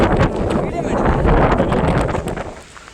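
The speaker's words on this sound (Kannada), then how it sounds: "ತುಂಬ ಗಾಳಿ ಇದೆ" Strong wind buffets the microphone in rumbling gusts that ease off toward the end, with a voice faintly beneath.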